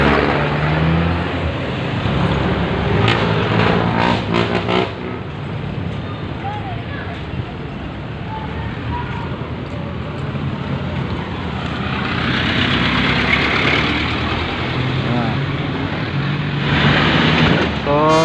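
A fire tanker truck of a fire and rescue unit idles on standby at an anniversary event, a steady loud engine rumble running throughout, with faint voices mixed in.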